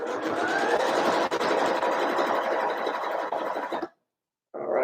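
A sewing machine runs continuously at speed triple stitching fabric, a close, steady mechanical whir that stops abruptly near the end and then starts again.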